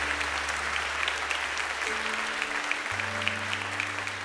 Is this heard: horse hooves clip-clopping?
no